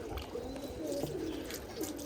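Pigeons coo softly in soft repeated low calls during a cooling bath on a hot day, with faint background noise and no talking.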